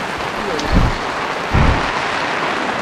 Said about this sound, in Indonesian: Hujan. Pas. Hujan, guys. Hujan.